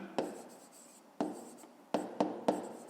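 A pen writes on paper in short scratchy bursts, five distinct strokes or taps spaced irregularly across a few seconds, close and fairly quiet, with no talking.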